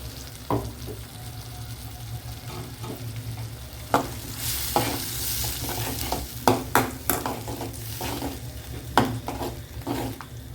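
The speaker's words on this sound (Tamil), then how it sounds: "தக்காளி கொஞ்சம் நல்லா வதங்கிடுச்சு" Ground tomato paste sautéing in a pan for a spicy mushroom gravy: a steady sizzle runs underneath while repeated spoon scrapes and stirs grow busier and louder toward the end.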